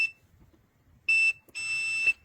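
Continuity test beep from an Abestop AT312G digital multimeter/oscilloscope, two steady electronic tones, a short one followed by a longer one, with near silence before them.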